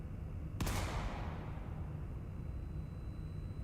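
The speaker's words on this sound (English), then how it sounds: "The sound of a gunshot echoed in our ears" A single sharp gunshot in an audio drama cracks out loud and close, then fades into a long decaying echo over a steady low background.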